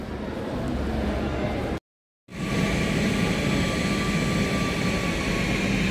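Air China jet airliner at Kathmandu airport, a loud steady jet engine roar with a whining tone, briefly cut to silence, then resuming at full strength.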